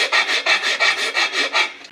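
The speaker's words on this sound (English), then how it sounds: "there's a significant amount of lip on here, but we'll get that all off just using a file" A hand file rasps back and forth across the cut edge of a shortened aluminum intake tube, about seven steady strokes in quick rhythm, close and clear with no talking.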